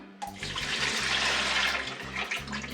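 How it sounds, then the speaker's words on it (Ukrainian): Tap water runs steadily into a container of dried mushrooms set to soak, a close continuous splashing gush with low bubbling under it and no talking. "Намочу водою, поставлю відмочувати."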